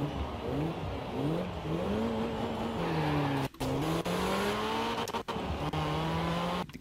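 A car engine revs and shifts through gears in the racing game Forza Horizon 4, rising pitch sweeps with tire noise and brief cuts, heard alone at moderate level.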